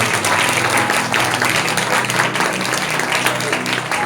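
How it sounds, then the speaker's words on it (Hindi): A church congregation bursts into loud, sustained applause at a Christmas sermon, dense clapping filling the room steadily for the full stretch without pause. "एक बार जोर तालियां प्रभु का महिमा करेंगे"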